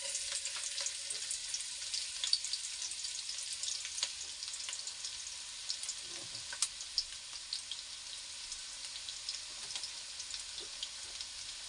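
Garlic sautéing in a pan while cooking ginisang ampalaya with egg, a steady quiet sizzle with small pops and crackles, close up and without talk.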